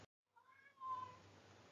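A cat meows twice nearby, a rising tonal call followed by a louder drawn-out one, over a low room hum in an otherwise quiet indoor space.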